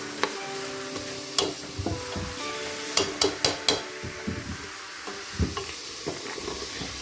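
Carrots and leeks sizzling gently in a pan while a utensil stirs them, a soft frying hiss broken by several sharp clacks and scrapes against the pan, no talk.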